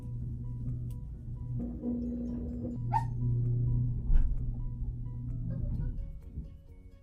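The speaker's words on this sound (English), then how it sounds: "I wonder if my dog's gonna whine the whole video." A pet dog whines indoors during a home makeup session, with short high-pitched whimpers rising over a steady low background hum, fairly close and moderately loud.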